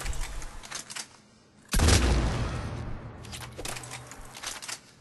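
A Claymore shotgun from Mass Effect 3 fires at very short range while aimed down the sights: one loud, booming blast rings out near the middle of the clip and then decays slowly, with quieter background sounds around it.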